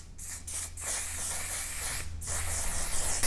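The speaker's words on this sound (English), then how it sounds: "This is a mattifying waterproof setting spray." OneSize On til Dawn mattifying waterproof setting spray misted in several close, loud hissing bursts separated by short gaps, the final spray running longest, with no talking.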